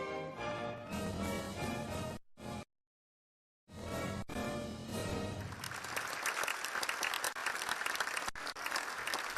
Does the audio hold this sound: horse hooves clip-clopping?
no